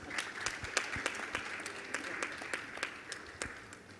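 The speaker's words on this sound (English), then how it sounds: "You can clap if you wish to for generals." An audience at a development conference applauds, a light, scattered patter of claps with distinct individual hand strikes, fairly faint and distant.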